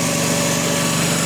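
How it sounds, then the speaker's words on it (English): A Kohler Command Pro small engine running steadily, loud and close with a constant droning hum and no pauses, heard alone. "See if the old Kohler Command Pro will run."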